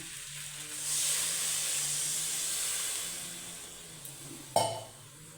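A loud sizzling hiss swells up as water is poured into a hot frying pan of cauliflower and potato, holds for a few seconds, then fades, ending with a sharp clatter near the close.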